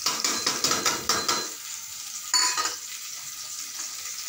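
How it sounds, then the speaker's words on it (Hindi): Spices with red chili powder, turmeric and salt frying in a pan, stirred with rapid repeated scraping strokes at first, then a quieter sizzle with one more scrape, close up and without talking. "और अब हम इसे चलाएंगे दो मिनट तक हम इसे ऐसे ही चलाते रहेंगे"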